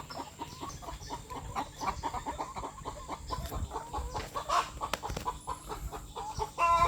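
Chickens clucking in a backyard coop on a small home farm, a continuous cluster of nearby clucks and squawks with scattered louder calls and faint bird chirps.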